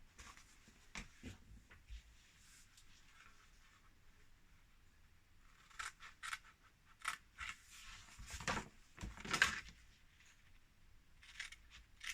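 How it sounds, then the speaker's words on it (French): Scissors snip the corners of paper edged with double-sided tape while building a scrapbook album structure. Quiet, scattered crisp cuts and brief scrapes, with a cluster of sharper snips toward the end. "Maintenant, je vais couper mes angles."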